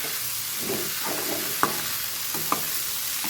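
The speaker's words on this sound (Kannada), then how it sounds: "ಇವಾಗ ಒಗ್ಗರಣೆ ಹಾಕಿದ್ಮೇಲೆ ಇದರಲ್ಲಿ ಬೇಯಬೇಕು" Raw corn kernels frying in a spiced tempering in a pan over high gas flame, a steady low sizzle with a couple of sharp stirring clinks, no voices.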